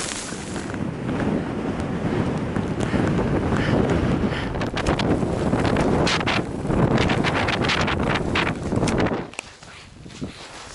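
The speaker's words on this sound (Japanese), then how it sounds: "風が結構吹いてます。" Strong wind blowing on a mountain near Aconcagua base camp, a loud, continuous roaring buffet against the microphone that eases abruptly near the end.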